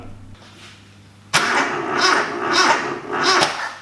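A Toyota Corolla KE25 with a freshly swapped 4K engine cranks and fires after a quiet start, then settles into a loud, steady running roar with rhythmic surges close by.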